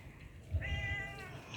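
A domestic cat gives a single clear, drawn-out meow, fairly close and soft, over a quiet evening background with no talking.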